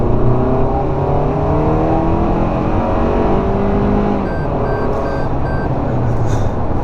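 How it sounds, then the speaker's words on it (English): A 2019 Toyota RAV4 XLE with an 8-speed transmission accelerates onto a highway, its engine droning loudly and steadily with rising tone under road and wind noise, and a few short electronic chimes near the end. "this engine is kind of noisy"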